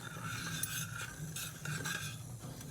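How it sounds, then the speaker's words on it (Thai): A spoon stirs milk, sugar and vanilla in a pot while the sugar dissolves, producing soft scraping and clinking against the metal with a faint simmering hiss underneath, quiet and close. "แล้วก็คนให้เขาละลายค่ะ"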